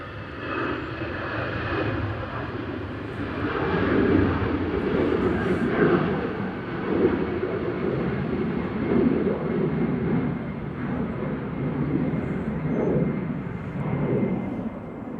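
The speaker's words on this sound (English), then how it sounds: "EasyJet departing here. Heading off to Geneva," An EasyJet airliner taking off from gusty Manchester Airport for Geneva, a steady, moderately distant engine roar that swells and rumbles throughout, heard on its own.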